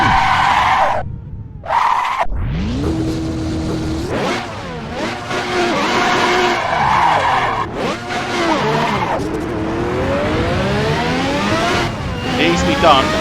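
A 1992 Jordan 192 Formula 1 car runs hard on track, its engine screaming loud and close through rapid up- and downshifts with sweeping pitch changes, while someone talks over it.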